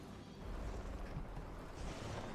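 A bloodstone explosion in the Guild Wars 2 video game, heard as a sustained deep rumbling roar with broadband crackle, loud and steady for a couple of seconds without talk.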